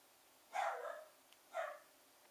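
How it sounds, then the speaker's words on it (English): A dog barks twice in short, separate bursts with a pause between them, fairly close but not loud, in an otherwise quiet room. "My dog is going to bark during this video because he's an asshole."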